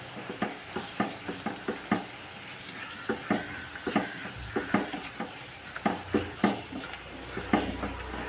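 Fish seasoned with coriander powder and salt sautés in oil, with a constant sizzle under frequent light scraping and tapping of a spatula against the pan, close and without talk.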